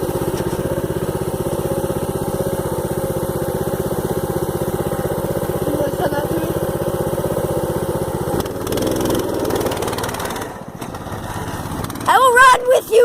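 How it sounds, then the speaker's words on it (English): A small mini bike engine drones steadily during a wheelie, a buzzing mid-pitched note that shifts and then roughens near the end with a few louder revving bursts. "Capture the awesomeness of the mini bike adventurist doing his wheelie thing."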